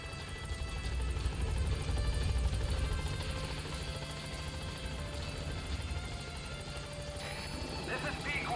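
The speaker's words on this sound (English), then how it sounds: "Support helicopter has arrived." A support helicopter in Metal Gear Solid 5 arrives with a loud, steady rotor drone and low rumble that holds throughout, with game chatter and effects layered over it.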